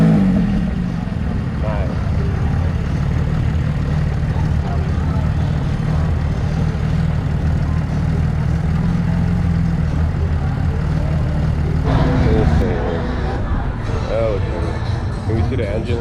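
Porsche GT3 engine at a cars-and-coffee meet, running steadily with a deep continuous idle and a rise in revs near the end, while people talk nearby.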